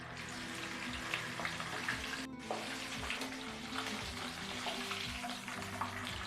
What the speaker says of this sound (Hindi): अब मैं इसको ना हल्का सा सिर्फ कलर देने के लिए फ्राई करूँगी।